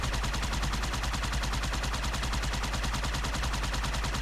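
Rapid automatic gunfire in the video game Halo 2, shooting enemies from a distance, a dense continuous stream of evenly spaced shots at steady loudness throughout, with no talk.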